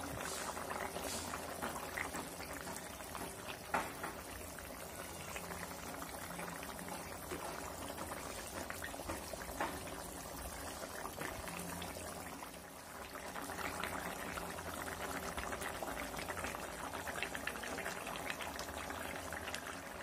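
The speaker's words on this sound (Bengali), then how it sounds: "ঝোলটা যখন বলক চলে আসবে তখন আমি ভাজা মাছ দিয়ে দিলাম।" A pot of rui fish curry broth with potato and eggplant bubbles at a rolling boil over high heat, a steady close burbling and hiss with no talk.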